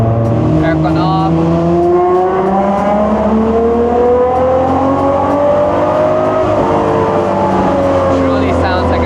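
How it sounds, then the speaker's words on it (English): A carbon-bodied Mazda Miata ND's engine and exhaust drone from inside the car while driving, steady rising and falling harmonic tones as it works through the revs, loud and continuous. "Truly sounds like an F1 now."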